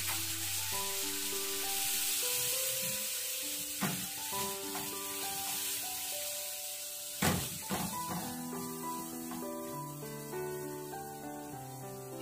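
Vinegar pours into a hot pan for a Kerala tuna fish pickle, setting off a steady loud sizzle and hiss that runs throughout, with a couple of sharp clinks against the pan.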